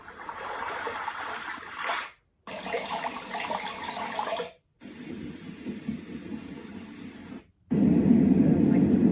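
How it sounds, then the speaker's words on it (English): A baby and toddler sound machine with a night light plays rain sounds: steady, close hissing water noise in several stretches broken by short silences as the setting changes. "Or like different rain sounds."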